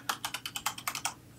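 Keys on a computer keyboard tapped in a steady run of about nine distinct clicks, close-up and soft, heard alone while someone plays Minecraft.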